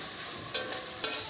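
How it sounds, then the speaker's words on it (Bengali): Spice paste stirred and fried in a pan for a drumstick curry, a steady close sizzle with two quick scraping strokes of a spoon. "ভালো করে নাড়াচাড়া করে মশলাটা ভাজা হলে ভালো লাগবে।"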